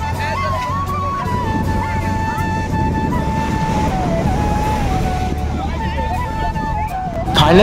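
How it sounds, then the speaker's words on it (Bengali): Surf at the beach in Digha rolls in as a steady broadband wash, with a crowd babbling nearby and wind noise throughout, the whole scene getting slightly louder at the end. "প্রচুর পরিমাণে ঢেউ।"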